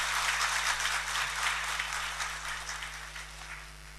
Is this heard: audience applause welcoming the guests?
yes